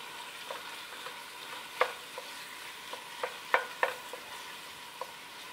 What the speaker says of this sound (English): So I'm just stirring it until it's all incorporated together.